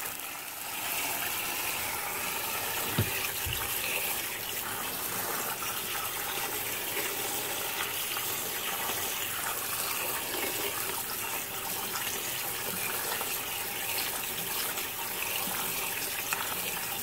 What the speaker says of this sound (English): I take some cold running water. And I run it through to get all the suds out